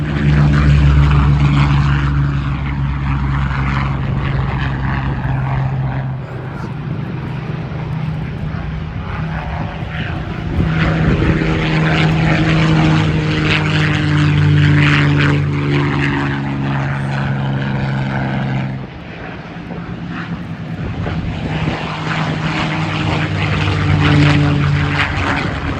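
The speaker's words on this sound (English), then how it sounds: "Hawker Hurricane." A Hawker Hurricane propeller fighter flies past at an airshow, its engine drone loud and sustained, rising and falling as it passes, with a short dip near the end.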